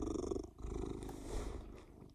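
A male cat purring close by, a steady low rumbling throb that runs continuously under faint background sound.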